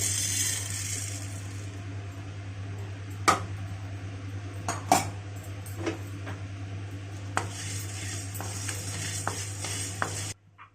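Coconut dry-roasting in a pan until lightly browned for homemade pulihora powder, heard as quiet steady scraping and stirring with a few sharp clinks of a spoon against the metal, with no talk, ending abruptly.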